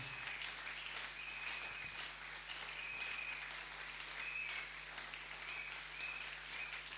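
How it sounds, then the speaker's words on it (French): A church congregation applauds for Jesus, a dense, steady wash of many hands clapping that holds for several seconds with no break and no talk over it. "Acclame pour Jésus"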